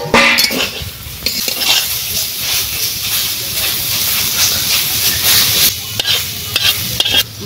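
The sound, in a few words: stirring and flipping leafy greens frying in a pan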